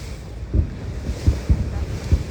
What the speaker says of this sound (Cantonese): 好大浪啊！